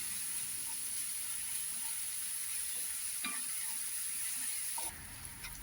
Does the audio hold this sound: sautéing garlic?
yes